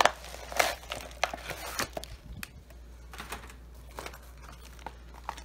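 A mailed subscription box package is opened up close, with crinkling plastic and paper, tearing and quick tapping clicks that are loudest at first and then become a softer rustle.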